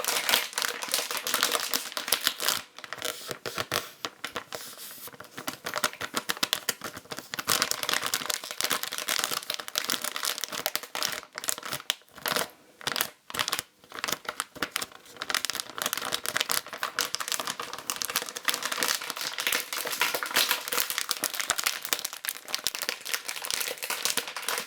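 A plastic packet from a Japanese DIY candy kit is crinkled up close, a dense and continuous crackling rustle with no voice.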